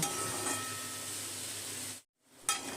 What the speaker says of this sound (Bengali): নুন হলুদ দিয়ে উচ্ছে আলুটা ভেজে নেব